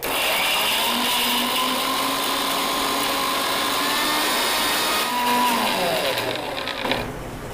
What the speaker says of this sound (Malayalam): ഇനി നമുക്ക് ഇത് ഒന്ന് അരച്ചെടുക്കാം ഇനി നമുക്കിതൊന്ന് നന്നായിട്ട് അരച്ചെടുക്കാവേ